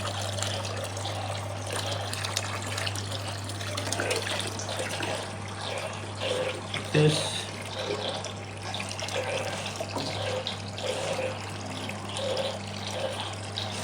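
An aquarium gravel vacuum sucks water in a tropical fish tank, gurgling and trickling steadily with a faint suction sound, continuous throughout, with a brief spoken remark partway through.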